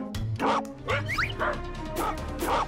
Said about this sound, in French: Mais d'où vient ce son? Qui est-ce qui aboie comme ça?